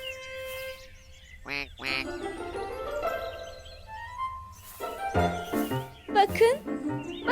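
Ducks quack in short bursts, several calls scattered over a few seconds, close by, with other faint outdoor sounds between them.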